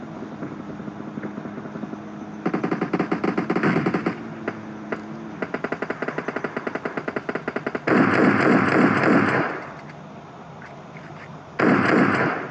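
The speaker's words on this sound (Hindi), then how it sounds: "गन शॉट की आवाज भी आ रही है" Gunfire during a battle royale video game fight, rapid automatic bursts in several strings with single shots between, loud and close, plus stretches of harsher noisy blasts.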